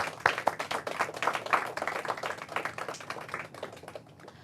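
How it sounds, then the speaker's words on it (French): Audience at a French-language school quiz semi-final applauds all the competing teams, a brisk, crackling burst of many hands that is strongest at first and then gradually thins and fades. "Un grand applaudissement pour toutes les équipes."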